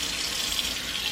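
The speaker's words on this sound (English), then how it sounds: "What we have to do is run some warm water." Warm water runs steadily from a kitchen tap into a tray, a continuous close, even splashing rush with no voices.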